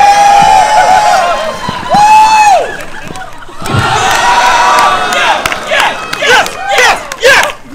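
A wrestling event crowd roars and cheers loudly, with individual voices whooping and yelling in bursts over a dense wash of noise that swells and dips.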